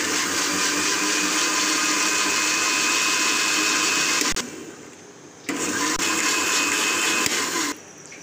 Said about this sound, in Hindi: दही हम लोगों ने डाल लिया है, साथ ही इसमें नमक डालेंगे और इसे ग्राइंड कर लेंगे।